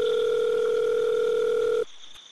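A telephone tone on a radio station's call-in line holds one steady, loud, continuous note for nearly two seconds before cutting off abruptly into faint hiss.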